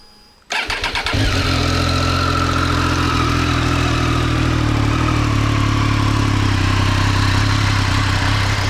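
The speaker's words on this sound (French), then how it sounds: "je vais quand même vous faire écouter la sonorité de ce 3 cylindres qui est juste fabuleuse" A Triumph three-cylinder motorcycle engine cranks and catches, then settles into a loud, steady idle with a deep, even throb.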